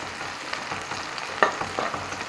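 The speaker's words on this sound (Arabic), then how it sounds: "احنا هنا اهو زي ما انتم شايفين كده لسه طبعا بنحمر في البصله" Chopped onions fry in a pan for a home-cooked Egyptian beans, meat and rice meal, a steady close sizzle with occasional stirring scrapes and light clinks, no voices.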